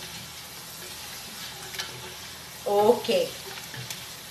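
Meat and potato pieces sizzling in a pan over high heat, a steady frying hiss with a brief louder scrape and clatter of stirring partway through, faint background noise around it.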